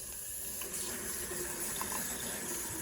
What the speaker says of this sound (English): get as much of the pigment out of the brush with just water. Until it's pretty much running clear.